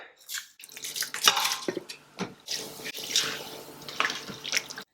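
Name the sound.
rice being added into water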